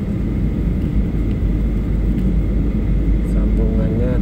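A Lion Air airliner landing at Soekarno-Hatta airport produces a loud, continuous low jet roar and rumble heard from inside, steady throughout with a faint whine rising near the end.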